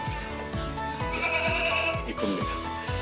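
Black goats bleat repeatedly on a small farm converted from a Korean beef cattle operation, several animals calling in overlapping, wavering cries close by. A low voice murmurs in the background.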